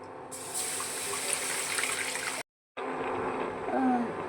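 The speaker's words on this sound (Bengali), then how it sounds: "এবারে আমরা এর মধ্যে জল দিয়ে দেব।" Water is poured into roasted semolina for veg suji rice momo dough, a steady splashy pour running for about two seconds, breaking off briefly, then resuming with a faint trickle and light kitchen clatter.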